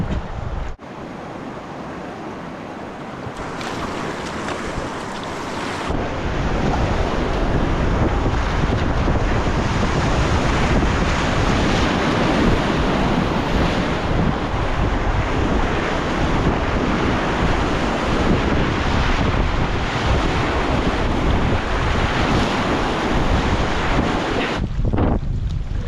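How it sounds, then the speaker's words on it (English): Big ocean waves crash and roar continuously, loud and close, with heavy wind buffeting the microphone throughout and a rising surge after the first few seconds. "Big waves. Nothing to hurt you. Just big waves."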